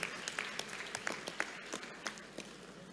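Round of applause at an annual general meeting, scattered faint clapping from a modest audience, individual claps distinct and fairly distant, fading toward the end.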